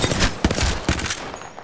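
Rapid bursts of gunfire in an Apex Legends match, several loud volleys in quick succession, close and dense like a firefight, easing off toward the end.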